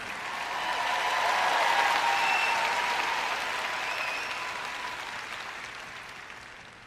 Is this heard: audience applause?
yes